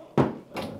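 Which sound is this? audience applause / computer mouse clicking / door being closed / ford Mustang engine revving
door being closed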